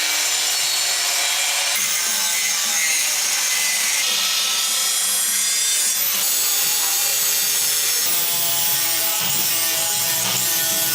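A custom metal rear fender for a Harley-Davidson Dyna bobber is trimmed with a power tool, giving a loud, steady high-pitched grinding whine that runs continuously with slight shifts in pitch and no talk.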